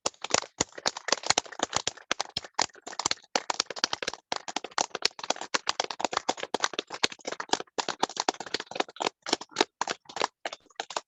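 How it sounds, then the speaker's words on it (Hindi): A meditation group clapping loudly together, many hands producing dense, sharp, uneven claps that keep going steadily for several seconds, close and lively with no talking. "आप सबके लिए एक बार जोरदार तालियां हो जाए"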